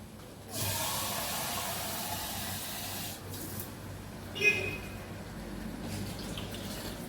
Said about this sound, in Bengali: জল অ্যাড করে দিলাম আর একটু লাগবে জল